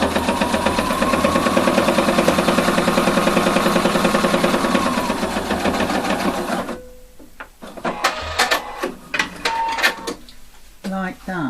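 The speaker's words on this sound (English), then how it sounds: "I want to do a top stitching here, 2 millimetre from the edge" A sewing machine runs a continuous top stitch 2 millimetres from the edge of a jeans button-fly piece, then stops, leaving clicks and handling noises as a voice speaks.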